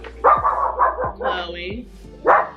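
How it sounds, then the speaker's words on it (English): A female guard dog barks repeatedly indoors, several loud close yips and bow-wows in an uneven run with a voice talking over and between them. "I told y'all she's a guard dog."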